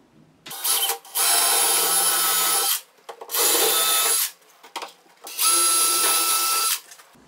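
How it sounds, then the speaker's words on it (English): Power drill pre-drilling three holes in a kitchen base corner unit's corner post, heard as three loud, close bursts of a few seconds each with short quiet gaps between them. "There's three holes that needs to be pre-drilled."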